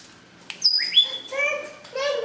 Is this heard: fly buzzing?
no